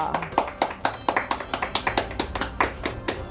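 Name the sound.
weak clapping from an audience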